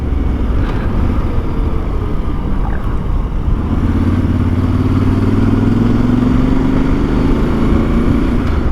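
A Voge DS800X motorcycle's engine drones steadily while riding, a low rumbling tone that rises gradually in pitch with wind roar layered on top, close and loud throughout.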